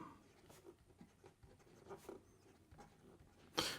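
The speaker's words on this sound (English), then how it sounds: "here we go with the writing sample for the Laban Formosa" A fountain pen with a medium stainless steel nib, a Laban Formosa, scratches softly across paper in quiet, faint strokes, ending with a brief louder scrape or tap.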